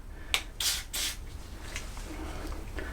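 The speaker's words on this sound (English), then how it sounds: "Now I'm going to use a GT85 because I'm going to have to try and spray it down into the tube" Short hissing bursts of GT85 spray lubricant aimed down into a bicycle cable tube, three close spurts in the first second followed by fainter puffs, near and fairly loud.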